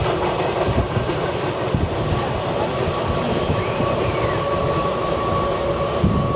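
Passenger train on the Kharagpur to Prayagraj route racing fast along the rails, heard from on board as a loud, steady roar with continuous wheel rumble and rattling throughout.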